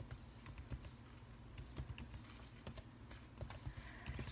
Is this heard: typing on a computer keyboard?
yes